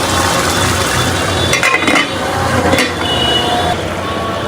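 Chicken being stirred and fried in a pot, a steady busy sizzle with scraping and occasional metallic clinks of a spoon against the pot, continuous and close.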